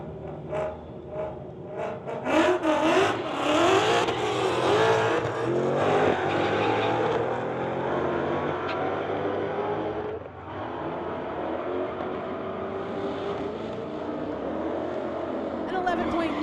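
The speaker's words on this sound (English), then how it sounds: "Derek from Surrey in the 2015 Mustang going against Ryan from Surrey in the Shelby GT" 2015 Ford Mustang and Shelby GT500 drag racing on a strip, loud engines roaring and revving with a sharp launch near the start, sustained noise that dips briefly midway.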